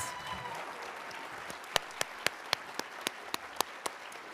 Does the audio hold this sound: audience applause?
yes